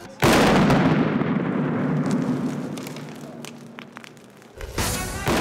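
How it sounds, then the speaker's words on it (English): A sharp, loud carbon dust explosion erupts, then a long roaring, crackling rumble slowly fades, followed by a second burst of noise near the end. "The explosion disperses the fine carbon dust and provides the igniting spark."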